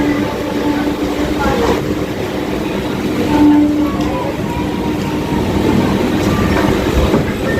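A train rumbles with a loud, steady rolling roar and faint clattering and squeal, heard close in a busy setting with some voices in the background.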